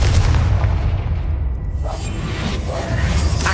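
Confringo blasting spell explosion in the Hogwarts Legacy video game, a loud deep boom with a rumbling, whooshing blast that fills the whole few seconds.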